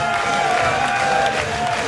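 Applause at a professional darts match: a steady, continuous wash of crowd clapping and cheering that holds at an even level throughout, with a commentator's voice faintly under it.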